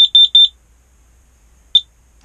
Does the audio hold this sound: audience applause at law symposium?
no